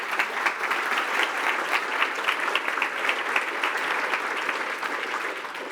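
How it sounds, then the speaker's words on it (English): Steady round of applause from a keynote audience at a software conference in London, many hands clapping in a continuous, moderately loud wash with no talk over it. "Let's have a round of applause for Guy"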